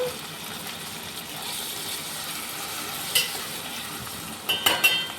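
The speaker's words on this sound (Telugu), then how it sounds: "ఉల్లిపాయలతో పాటు టమాటాలు అయితే వేగిపోయి" Tomatoes and onions frying together in a pan, a steady soft sizzle with occasional scraping stirs and a few sharper clinks near the end.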